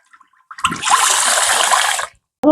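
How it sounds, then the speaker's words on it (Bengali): Rice being rinsed under running water, a steady rushing pour of about a second and a half that stops abruptly, with a brief voice right after. "এখন আমি চালটা ধুয়ে রেখে দিই।"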